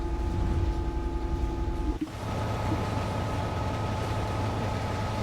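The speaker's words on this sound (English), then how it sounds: "Train is shunting over nicely." A DB Class 66 diesel locomotive shunts in a train simulator game, a steady rumbling engine drone with a brief clunk partway through, then continuing low mechanical rolling noise, no voices.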